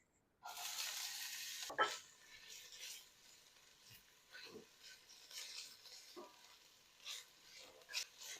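Finely chopped onions and green pepper sauté in olive oil, starting with a sudden bright sizzle after quiet, then settling into softer crackling broken by occasional spoon scrapes and stirs, close and fairly quiet, no talking.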